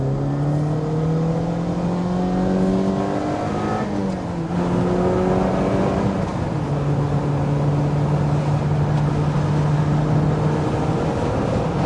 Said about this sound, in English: Stomp on those brakes, down to second, miss the apex completely.